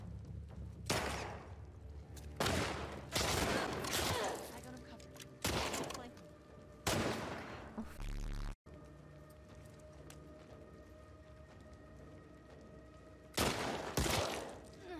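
Gunfire from The Last of Us Part II plays as repeated loud shot bursts and crackling blasts, with a player talking over the game sound.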